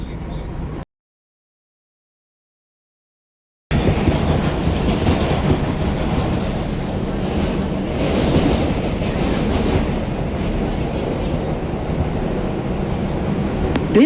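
A Brooklyn-bound New York City subway 2 express train rumbles along loudly and continuously after a short silent gap, with a voice speaking over the steady rail noise.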